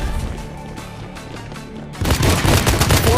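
Rapid gunfire in the video game Hyper Front, a sudden loud burst of dense shots that starts partway through after a quieter stretch of game music and effects, close and continuous to the end.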